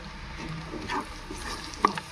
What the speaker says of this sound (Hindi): तो सबसे पहले इसी तेल में हम डालेंगे अदरक लहसुन का पेस्ट, इसे हम अच्छी तरह से मिक्स कर लेते हैं।